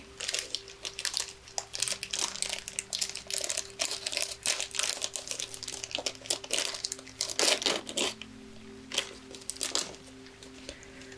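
Plastic packaging around a stone is crinkled and crushed close up in continuous soft crackling bursts, irregular and fairly quiet, with no talk.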